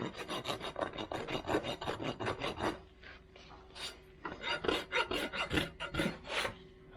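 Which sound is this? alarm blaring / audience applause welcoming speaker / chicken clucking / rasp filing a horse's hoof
rasp filing a horse's hoof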